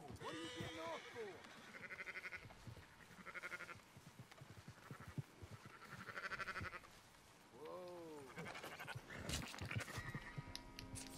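Sheep bleating in Red Dead Redemption 2, several wavering bleats from a nearby flock repeating at intervals, heard alongside speech and other game ambience.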